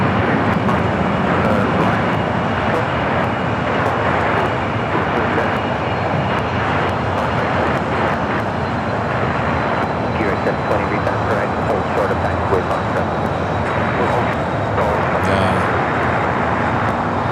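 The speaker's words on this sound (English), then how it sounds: "This will be a south side takeoff coming up." A jet airliner takes off from the south side runway at Los Angeles International Airport, its engines a loud, sustained broadband roar that holds steady throughout.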